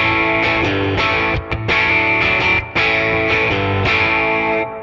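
An electric guitar plays chords through a Fender '57 Deluxe 5E3 tweed amp model with overdrive on a Helix-style modeler, giving a loud, gritty, distorted tone with a few short pauses between strummed phrases.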